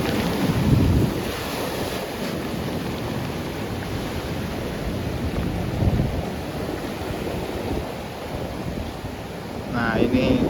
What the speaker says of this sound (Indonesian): Jika dapat dilihat ombak dari lautnya itu sangat tinggi ya